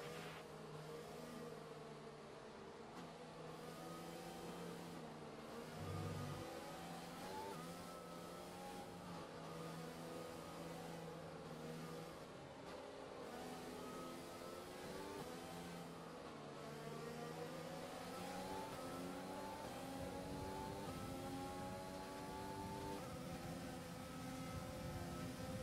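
A field of F1 cars in the F1 2020 video game accelerating behind the safety car, a layered drone of several engines rising and shifting in pitch, steady and fairly faint throughout with no talk.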